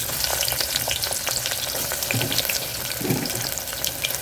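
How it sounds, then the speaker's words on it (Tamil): Onions fry in a pan for tomato rice, giving a continuous close sizzle with scattered crackles and brief stirring scrapes throughout. "அடுத்து வெங்காயம் போட்டுருவோம்"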